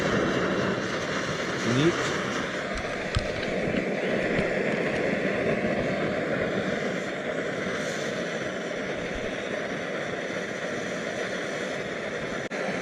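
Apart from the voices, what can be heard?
Trangia stove burning on gas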